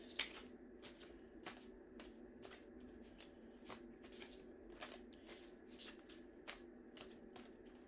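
Angel cards riffled and shuffled by hand for a tarot reading, a steady run of crisp flutters and snaps close by, fairly quiet and without speech.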